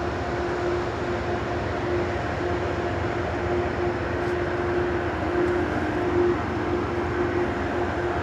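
A train at a station idles with a steady low mechanical rumble and a sustained tonal hum, moderately distant and unchanging, with no talk over it.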